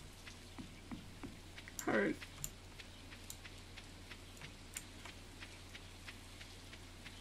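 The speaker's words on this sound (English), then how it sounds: "It's a rainy day." Light rain patters in the Stardew Valley video game as a soft, faint wash of scattered ticking drops, with one person speaking briefly over it.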